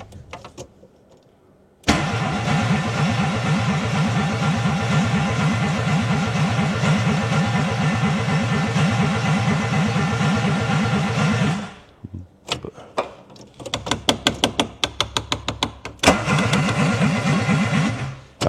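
A Renault Twingo engine cranks and catches, then runs at a loud, steady idle close by for about ten seconds before cutting out, followed by a string of short, choppy restart attempts and bursts.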